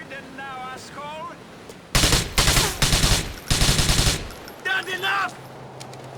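Loud machine-gun fire in Grand Theft Auto IV, several rapid bursts in quick succession with brief gaps between them, with a voice shouting before and after the shooting.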